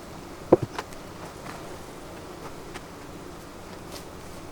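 Honey bees buzz around an opened beehive during fall hive preparation, a faint steady insect drone with a few brief louder taps or thumps near the start, no voices.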